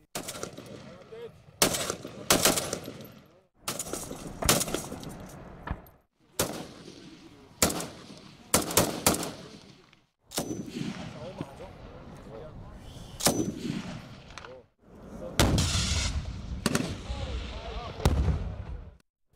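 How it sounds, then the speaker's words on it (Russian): Artillery guns and small-arms gunfire at a reservists' live-fire exercise, heard as a string of loud, sharp reports spread across the clip, some single blasts and some rapid bursts, with rumbling echoes in between. "По нему был открыт огонь с артиллерийских орудий"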